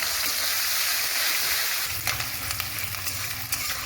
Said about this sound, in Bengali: এই ফোড়নের মধ্যে সবজিগুলোকে ভেজে নিচ্ছি, পটল, ডাঁটা, আলু